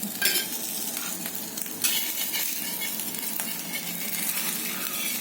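Steady frying sizzle of a fasting-style thalipeeth cooking in a little oil on a nonstick pan, continuous and close with occasional light scraping of a utensil, no talking.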